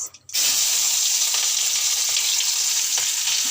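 Onion drops into a hot pan with spices, ground onion, ginger-garlic paste, chili, cumin and turmeric, bursting into a loud, steady sizzle after a brief clatter at the start, with no talking.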